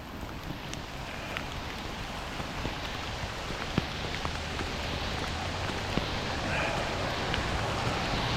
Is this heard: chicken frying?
no